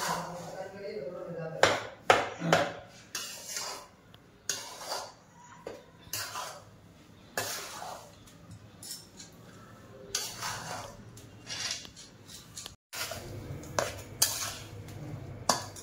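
Sugar is stirred through a besan ladoo mixture in a pan with a metal spoon, making repeated scraping and clinking strokes against the pan, close and uneven, with someone talking over them.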